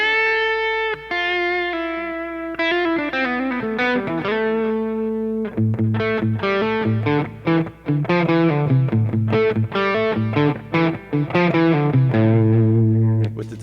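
Electric guitar played through a delay effect for rock tones, sustained notes giving way to a busy melodic lead line with echoing repeats, clean and close.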